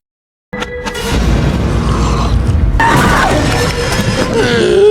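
A sudden explosion in a horror film erupts after a moment of silence into a sustained, loud, roaring boom with crackling debris, and a second surge of blast noise follows midway.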